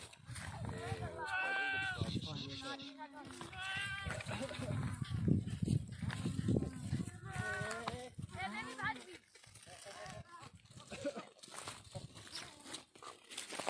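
Beetal goats bleat repeatedly nearby, their wavering calls overlapping, while people talk throughout.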